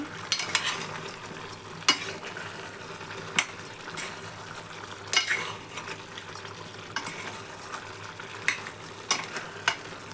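Chicken curry with garam masala and coriander powder being stirred in a pan, a soft sizzle of frying with repeated scrapes and taps of a spoon against the pot, close and steady with no talk.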